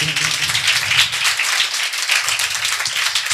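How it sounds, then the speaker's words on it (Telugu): A church congregation in Nandikotkur claps hands loudly and fast, a dense, bright, continuous patter of many hands close by with no talking. "గట్టిగా చప్పట్లు కొట్టండి."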